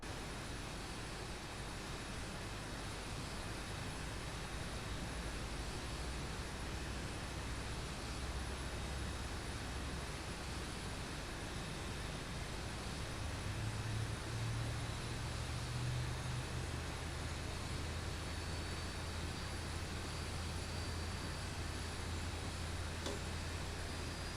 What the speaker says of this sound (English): We will go ahead and start engine number 1.